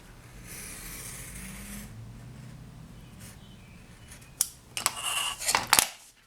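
Scissors make the last cut while assembling a paper or card portfolio with a spine and pockets: a quiet scrape first, then several crisp, close snips grouped near the end.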